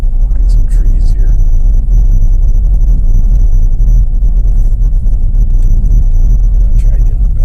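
A 2010 Mercedes-Benz GLK 350 with an ABS/TCS fault driving on a road test, heard from inside as a loud steady engine and road rumble, with faint clicks over the drone.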